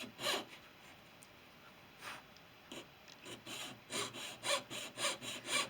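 A fretsaw slowly cuts a marked wooden piece, making soft rasping strokes that start sparse and turn into a steady rhythm of repeated back-and-forth cuts close by.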